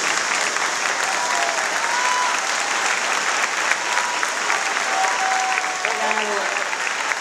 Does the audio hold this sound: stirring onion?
no